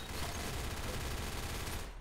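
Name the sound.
gunfire from a low-recoil gun in a Roblox game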